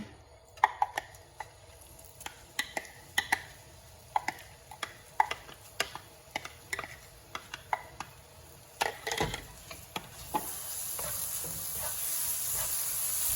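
Spice paste sizzles in a wok with repeated sharp clicks and scrapes of a spatula stirring, the sizzle building louder and steadier toward the end.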